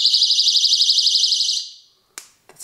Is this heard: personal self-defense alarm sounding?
yes